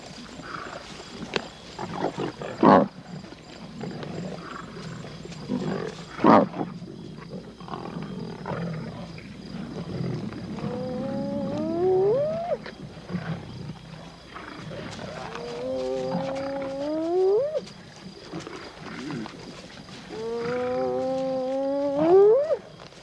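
Lions feeding on a carcass at night on the African plain, with low growls and snarls, and rising, strained roaring calls that repeat several times at close range.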